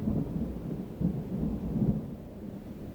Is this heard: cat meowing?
no